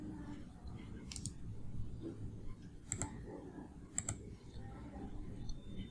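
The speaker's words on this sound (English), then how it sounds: "Double click on your Word document on your desktop or where you saved." A computer mouse clicks a few times at a desk, sharp quick clicks standing out over a low background hum, with sparse single and paired clicks spread across the moment.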